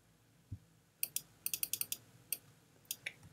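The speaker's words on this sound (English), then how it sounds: "Sorry about the keyboard, it's a bit loud. And the mouse is very loud." Computer keyboard keys clatter in quick irregular bursts alongside a few sharper mouse clicks during a Minecraft session, close and fairly loud against a quiet room with one low thump near the start.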